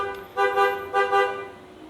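Car horns honking outside as children leave school, two paired toots close together sounding clearly and moderately loud, with no voices.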